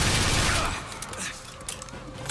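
Dense burst of gunfire in BioShock Infinite: Burial at Sea fills the opening second, then fades into scattered lighter shots and softer clatter.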